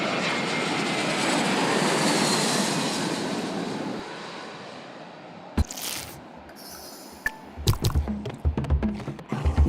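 An airplane climbs after takeoff in a video game, its engine a broad steady roar that fades after a few seconds, then gives way to scattered sharp clicks and thuds.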